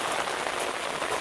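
Rain patters densely on surfaces outdoors in a sunshower, a steady close hiss of many drops with occasional louder splats, no voices.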